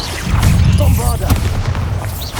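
A Bombarda spell blast in Hogwarts Legacy, a loud, heavy booming explosion with a deep rumble that holds for a couple of seconds, with a voice shouting over it.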